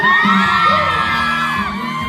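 Concert crowd at a first-night show shouting, whooping and cheering, a loud, dense wall of high yells and screams held steadily throughout.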